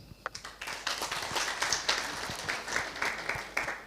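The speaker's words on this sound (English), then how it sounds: "a big round of applause to Professor Lanihai, please" A conference audience applauds Professor Lanihai with steady, moderately distant clapping from many people, lasting a few seconds.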